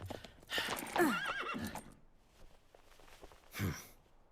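Horses in the Professor Layton and the Miracle Mask video game give a loud, close neigh with hoof clatter, then a quieter gap and a second shorter whinny, with no talking.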